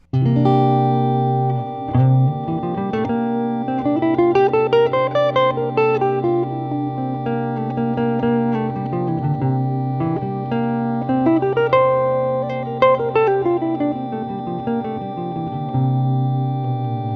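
A tuned melodic line climbs and descends through a seven-note Mixolydian scale twice, each note ringing with a bright, slightly buzzy synthetic tone, steady and loud with no voices.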